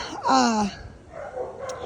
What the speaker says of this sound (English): She's a nervous dog